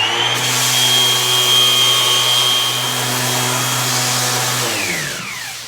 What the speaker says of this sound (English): Broke out the new Ryobi Orbital Sander.